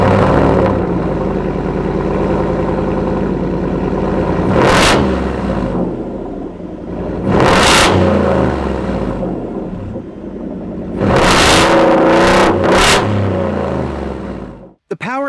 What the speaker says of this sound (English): It sounds good too through its stainless steel cat-back exhaust.